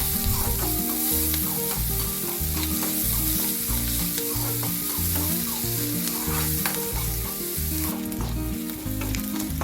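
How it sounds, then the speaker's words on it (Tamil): Chopped onions sizzle steadily in hot oil while frying for a Tamil pudina (mint) kuruma, a continuous close hiss that holds for the whole stretch with no talking. "நான் வெங்காயத்தை ஆட் பண்ணுறேன். வெங்காயம் நல்லா வதங்கணும்"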